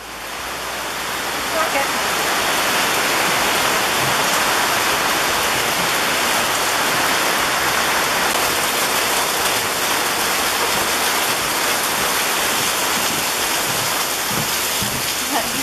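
Rainy-season downpour in the Peruvian jungle near Puerto Maldonado, a loud, dense, unbroken hiss of falling rain that holds steady throughout with no voices.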